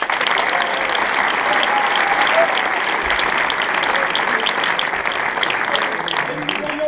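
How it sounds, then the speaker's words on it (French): A hall audience applauds the treasurer Margot at an association meeting, with loud, dense, sustained clapping from a large crowd. "Je vous demande d'applaudir Margot."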